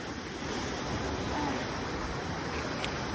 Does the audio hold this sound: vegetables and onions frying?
no